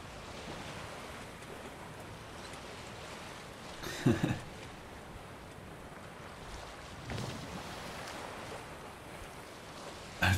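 A sailboat moves across open water in The Witcher 3: Wild Hunt, with steady wind and rushing waves throughout and a couple of louder splashes against the hull.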